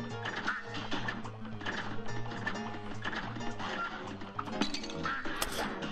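Cartoon ducks quack in the Cuphead video game, short repeated squawks bouncing over busy, jaunty game music with crashing effects, with no talking.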